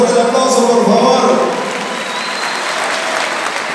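Loud crowd applause with some cheering at an international folk dance festival during carnival, strongest at first and then easing to a steady, softer roar while an announcer speaks over it.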